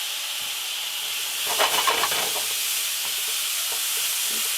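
Minced garlic and onions sizzle in a hot pan under a steady hiss, with a burst of scraping stirring strokes in the middle before the frying settles back to an even crackle.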